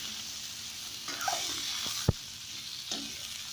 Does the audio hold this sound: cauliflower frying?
yes